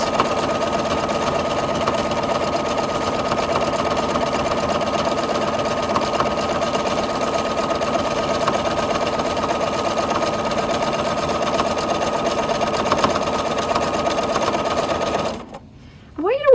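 A sewing machine stitching free-motion quilting runs in a steady, continuous mechanical whir close up for about fifteen seconds, then cuts off abruptly near the end.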